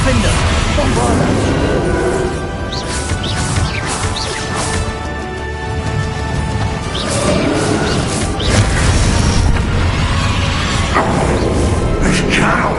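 Bombarda blast spells in the Hogwarts Legacy game during a boss fight, heavy crashes and booming impacts stacked over constant loud battle noise and whooshes, with voices talking throughout.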